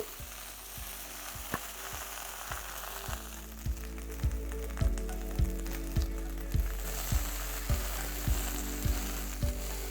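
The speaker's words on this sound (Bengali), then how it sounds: "তেলটা ভালো করে গরম হয়ে গেলে আমি এখানে দিয়ে দেবো ঢ্যাঁড়সটা। তারপর এটাকে ভালো করে আপনারা ভেজে নিন।" Okra frying in hot oil with a little salt and turmeric, a steady sizzle broken by a regular run of sharp spatula knocks against the pan that grow louder partway through; no one speaks.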